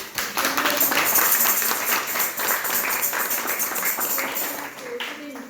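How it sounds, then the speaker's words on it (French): A crowd applauds at a young soldier's enrolment ceremony, dense clapping filling the room steadily for several seconds, gradually thinning toward the end, with voices mixed in. "On l'applaudit."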